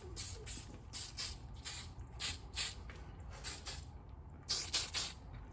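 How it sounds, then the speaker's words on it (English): Hairspray sprayed onto shoulder-length hair in a row of short hissing bursts, each about a third of a second with brief gaps between them, fairly close but soft, a longer burst near the end, no talking. "this is actually the way you should be spraying your hairspray"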